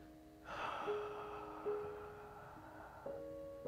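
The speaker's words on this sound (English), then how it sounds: "Let's take another deep breath." A single deep breath taken during a guided calming exercise, a soft drawn-in inhale that swells and holds, quiet and close, over faint steady background tones.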